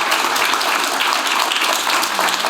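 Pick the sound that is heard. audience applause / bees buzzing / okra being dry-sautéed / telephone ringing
audience applause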